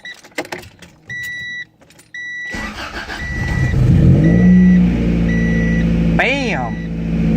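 A Honda Accord that has had a high idle problem: key-in chimes and clicks, then the engine cranks and catches, revs up and settles into a loud, steady idle close by, with another brief chime near the end.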